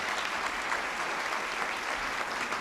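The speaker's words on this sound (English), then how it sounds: "How about a round of applause for our speaker?" Steady, full applause from an audience at a National Press Club luncheon, a dense, even roar of many hands clapping for the speaker, sustained without pause.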